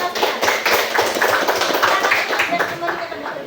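Students in a classroom applaud their presenting classmates: a brisk burst of many hands clapping, close and fairly loud, with voices mixed in.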